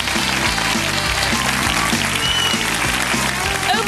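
A studio audience at a British improv comedy show applauds steadily and loudly, a dense wash of clapping under a rhythmic piano tune.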